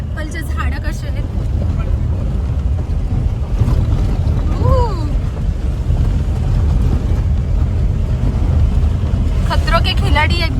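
An off-road vehicle climbs a steep mountain track near apple orchards in Kullu, its engine and tyres making a constant low rumble with wind buffeting. People talk over the noise.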